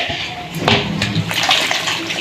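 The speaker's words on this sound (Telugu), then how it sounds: "ఇందులో కొంచెం వాటర్ పోసి ఒక 2 గ్లాసుల వాటర్ పోయండి." About two glasses of water poured into a cooking pot with a steady, close splashing gush that stays fairly loud and even over a couple of seconds.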